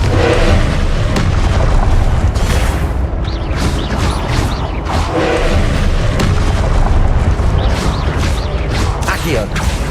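Continuous loud booming explosions from the Confringo fire spell in the Hogwarts Legacy video game, with dense rumbling blasts layered under a spoken voice throughout.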